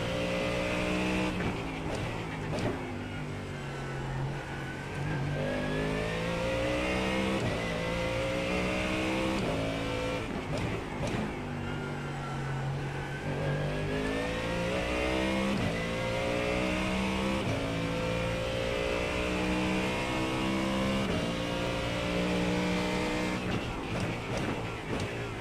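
A GT3 race car engine in iRacing, loud and continuous, pitch sweeping up through the gears and dropping at shifts and braking, with a few tire squeals.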